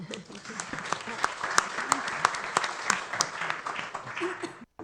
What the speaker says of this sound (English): So I'd like to give you a round of applause for that as well.